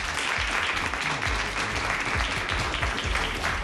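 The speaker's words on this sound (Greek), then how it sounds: "Δώστε ένα χειροκρότημα στον κύριο Λαζάρο" A studio audience at a Greek television cooking show claps in sustained, dense applause that fills the room evenly from start to finish.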